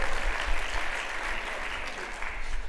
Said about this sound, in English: Can we have a round of applause for the person who came all the way from New Zealand?